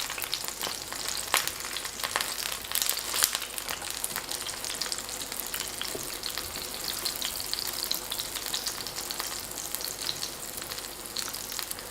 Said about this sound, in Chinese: 翻面以后，继续中火慢烙，一定不要开大火